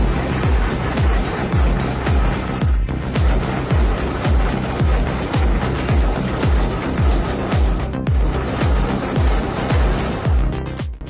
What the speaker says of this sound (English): A deep mechanical roar that rattles your bones if you stand too close.